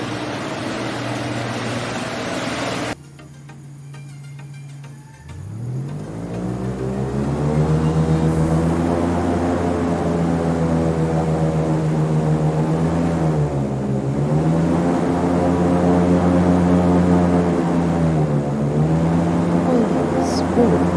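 A police boat's engine hums steadily, rising after an initial quieter stretch into a loud continuous drone with slight pitch dips, close and alone without talk.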